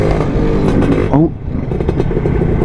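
Lambretta two-stroke streetracer scooter engine running close and loud, then stumbling and sputtering briefly from fuel starvation before picking back up, with no talk over it.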